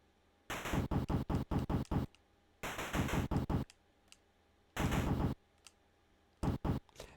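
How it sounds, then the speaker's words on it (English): Chiptune-style gunfire from an NES game, rapid rattling bursts of shots in several separate clusters with short silent gaps between them. "The sweet, glorious sound of gunfire."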